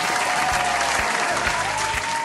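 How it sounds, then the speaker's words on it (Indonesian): Loud, dense applause from a children's church service crowd, steady clapping throughout with no talk over it. "Kasih tepuk tangan dong."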